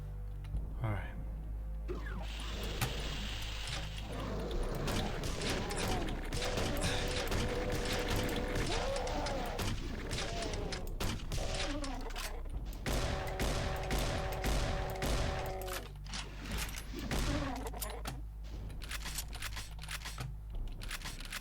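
Shotgun fire in a shooter video game set in a forgotten industrial area, with rapid mechanical blasts, clacks and ratcheting reloads in dense bursts, mixed with other game effects and a voice talking over them.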